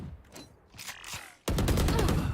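Rapid automatic gunfire in a Free Fire esports match, sprayed through smoke in bursts, quieter shots at first, then a loud dense sustained stream of fire from about halfway.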